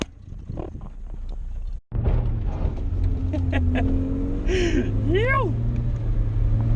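A Datsun Stanza's engine runs steadily as the car is thrashed around a paddock, a low droning hum with rising revs under excited shouting and chatter from boys nearby.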